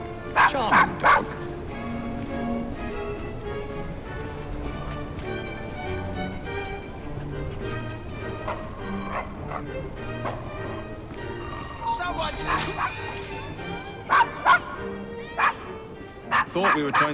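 A dog in the Assassin's Creed Syndicate video game barks and whimpers in short yips. People talk over game audio with clip-clopping horse hooves throughout, and a few sharp louder bursts come near the end.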